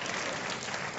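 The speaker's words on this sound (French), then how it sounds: "Donc applaudissez pour Sorobale." An audience applauds a young apprentice minibus (Sotrama) driver's assistant, a steady dense patter of clapping filling the whole short moment at even loudness.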